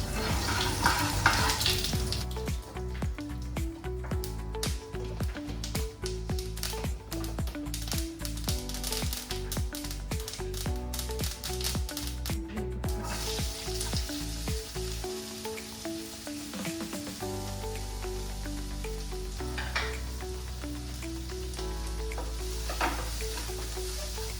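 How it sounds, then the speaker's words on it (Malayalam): Mustard seeds sizzle and pop in hot oil, a dense, crackling spatter of rapid clicks that stays loud and close throughout, easing slightly partway through, with no talking. "സോ കുറച്ച് കടുകിട്ട് കൊടുക്കാം"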